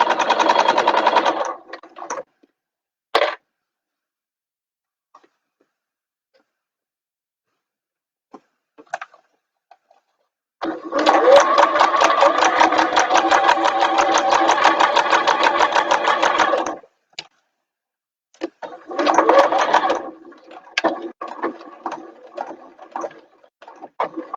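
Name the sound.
sewing machine stitching a bag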